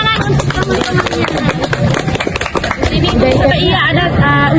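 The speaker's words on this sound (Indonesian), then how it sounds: "Tepuk tangan untuk teman-temannya" Schoolchildren in a classroom clap for their classmates: loud, steady applause mixed with lively voices and chatter, filling the room throughout.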